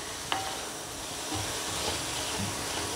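Boiled, peeled baby potatoes frying in a pan while being stirred, with a continuous soft sizzle and a few low scraping stir sounds, faint and close.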